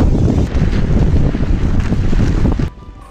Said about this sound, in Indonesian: Ditambah dinginnya angin yang begitu kencang.